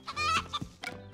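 Chickens cluck in a quick, close, animated burst of several short calls on a farm in an animated film.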